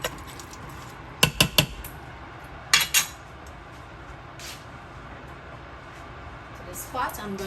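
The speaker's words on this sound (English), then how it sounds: "gonna give this a good mix before I add the other ingredients" A spoon scrapes and clanks against a pot while lamb cook-up rice is stirred, with a quick cluster of metallic knocks followed by a few more scattered taps, as a person talks throughout.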